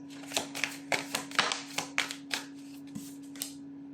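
Tarot cards being riffled and tapped in quick bursts, a series of crisp flutters with a steady electrical hum underneath; no one speaks.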